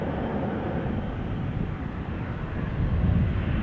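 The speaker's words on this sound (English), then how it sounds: "It is time for a KLM 777-300 to Nairobi." A KLM Boeing 777-300 departing Amsterdam Schiphol, bound for Nairobi, gives a steady, loud broadband jet roar that swells slightly near the end, heard alone without voices.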